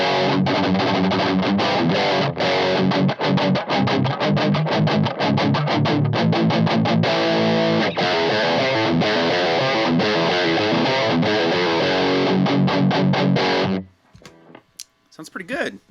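A distorted electric guitar played through a thick, hairy Line 6 Helix Doom amp model chugs out dense rhythmic riffs at steady loudness, then stops abruptly, followed by brief talk.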